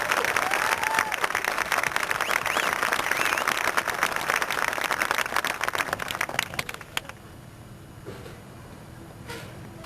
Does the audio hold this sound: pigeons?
no